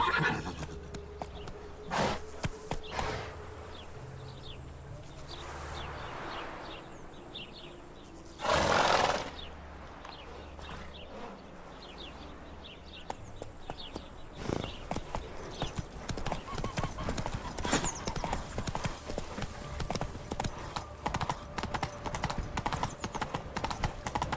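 Roach the horse galloping in The Witcher 3 video game, with rhythmic hoof clip-clops building to a steady, close gallop, broken by a short loud burst and a whinny, over low game ambience.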